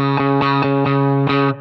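An electric guitar plays a clean tone through a Friedman amp with a Flint reverb. A few rhythmic strummed chords pulse loudly and evenly, with the notes ringing between strokes.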